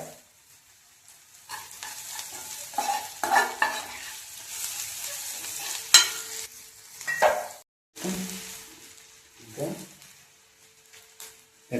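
Mushroom pepper dry being stirred in a pan, a spoon scraping and clinking through the sizzling dry fry in bursts, with brief pauses.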